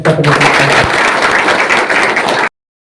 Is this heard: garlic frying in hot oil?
no